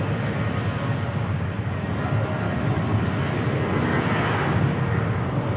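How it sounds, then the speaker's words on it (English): Southwest Airlines Boeing 737-700 departing Sky Harbor Airport, a steady, loud jet engine roar holding level throughout with no talk over it. "Is this 737-700 from Southwest Airlines?"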